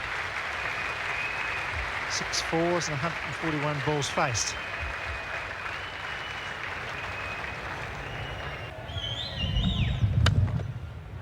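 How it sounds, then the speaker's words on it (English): Test cricket crowd applauding a batsman's fighting fifty on the first day of the first Australia versus India Test, steady broad clapping throughout and swelling near the end, under a commentator's voice. "It's a generous round of applause."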